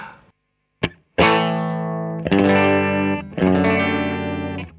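An electric guitar runs through a Strymon Sunset pedal on its mild JFET overdrive setting: a brief picked note, then three sustained, ringing chords, each strummed loudly and left to decay, with no voice present.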